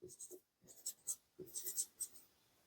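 A marker writes on a board during a particle physics lecture, giving quick, close, scratchy strokes in short bursts with brief pauses between them.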